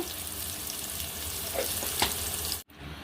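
Sliced onions fry in oil in a pan, giving a dense, continuous close-up sizzle with a couple of brief louder crackles near the end.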